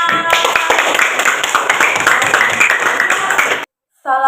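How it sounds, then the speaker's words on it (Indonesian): Applause at a classroom lesson on rain and water: steady, loud clapping from a group that goes on for several seconds and then cuts off abruptly. "Beri tepuk tangan."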